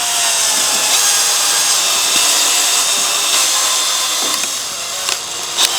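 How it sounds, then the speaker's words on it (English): A cordless drill in reverse turns a Fence Magician knot-tying tool on fence wire, giving a steady high whir that runs continuously with faint clicks and scraping near the end. "Now we're going to engage the drill in the reverse position and pull the trigger"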